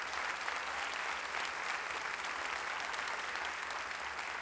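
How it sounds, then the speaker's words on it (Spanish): A steady burst of applause from a church congregation, dense clapping at an even level throughout with no pauses. "Dale el aplauso fuerte al Señor."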